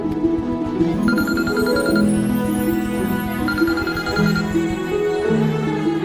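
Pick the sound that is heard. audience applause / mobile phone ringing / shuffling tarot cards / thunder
mobile phone ringing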